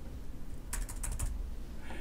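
Typing on a computer keyboard, a short burst of about six quick key clicks, close and clear, alone over a faint background hiss.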